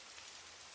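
Rain falling as a soft, even, continuous hiss, faint and steady, with no voices or other sounds.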